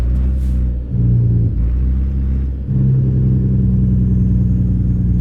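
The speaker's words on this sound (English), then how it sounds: "get some engine braking very quickly" A CAT 3406B diesel truck engine with a straight pipe exhaust engine-brakes in American Truck Simulator. It gives a loud, deep, steady rumble that dips briefly twice before settling into a sustained heavy drone.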